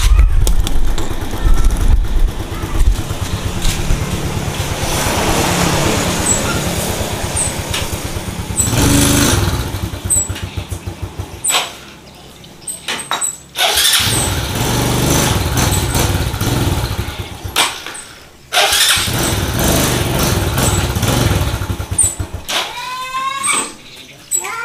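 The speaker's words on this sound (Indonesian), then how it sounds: "Motornya udah hidup" A Yamaha Jupiter Z1 motorcycle with double clutch plates and a fault that makes it jerk and lose pull uphill idles close by, then revs in several rising bursts that drop back to a steady putter.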